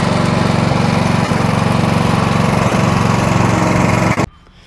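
A ride-on lawn spreader's small engine drones loud and steady while driving along a slight grade, a constant buzzing roar that abruptly cuts out near the end.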